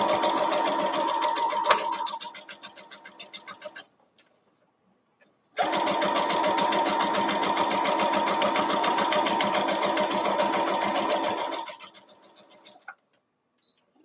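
A sewing machine stitches a quarter-inch seam on a quilt block, running in a steady rapid chatter for several seconds, then slowing and stopping. After a pause it runs again at full speed before tapering off.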